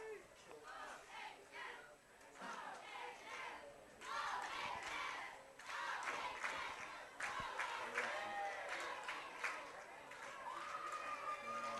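Partisan Ozark Lady Tigers fans cheer and yell at a high school softball game, a steady crowd roar rising and falling over nearly twelve seconds, with shouts and voices mixed in at a moderate distance.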